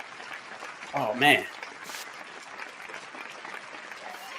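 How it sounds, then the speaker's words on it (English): A gathered audience gives a round of applause for honored ancestors at a community talk event; the clapping stays soft and distant throughout, and a voice briefly exclaims over it. "Let's give those ancestors a well-deserved round of applause, because they deserve it."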